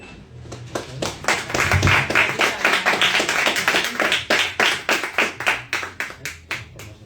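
Hands clap in a steady flamenco-style rhythm of palmas, a long run of sharp close claps at an even brisk tempo that slows slightly toward the end.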